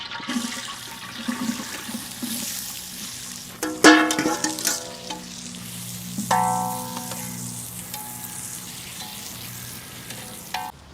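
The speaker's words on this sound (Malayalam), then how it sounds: "എണ്ണ ചൂടാ നമുക്ക് സവോള ഇട്ട് കൊടുക്കാം" Sliced onions drop into hot coconut oil for a crab roast, setting off a loud burst of sizzling and bubbling that settles into a steady fry with some stirring clatter.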